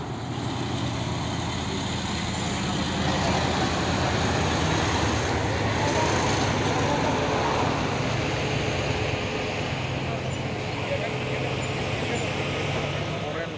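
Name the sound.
trucks climbing uphill on a road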